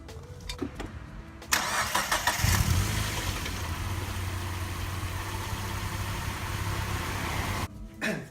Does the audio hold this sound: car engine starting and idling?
yes